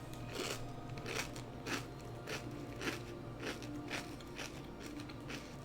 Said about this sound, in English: I'm eating Chex Mix, so I apologize if you hear the crunching.